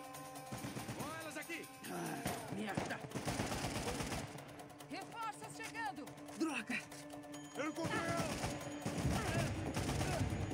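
Gunfire from an enemy shooter in the action game Uncharted: The Lost Legacy, dense bursts and fusillades that recur across the stretch, mixed with game music, effects and character dialogue.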